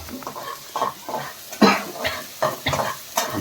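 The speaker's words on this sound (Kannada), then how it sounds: "ಇದು ಫ್ರೈ ಆಗಿದೆ, ಆಫ್ ಮಾಡ್ಕೊಳ್ಳೋದನ್ನ. ಈರುಳ್ಳಿ ಎಲ್ಲ" Onions stir-frying in a pan for egg curry, with bursts of scraping and stirring sizzle at close range, rising and falling in short strokes.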